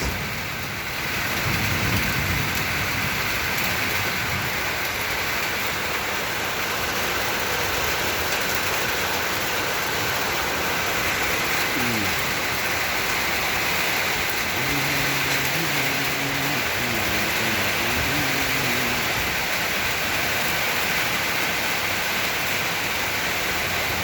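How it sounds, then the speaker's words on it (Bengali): Steady, dense rain pours down with a constant loud hiss, broken only by faint low rumbles in the background. "প্রচুর পরিমাণে বৃষ্টি হচ্ছে এখানে।"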